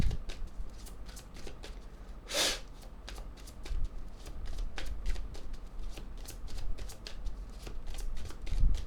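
Tarot cards being shuffled: a steady run of quick, papery riffles and soft flicks at close range, with a brief louder swish partway through.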